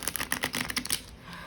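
Tarot cards being shuffled by hand, a fast run of crisp papery riffling clicks for about a second before fading into quiet.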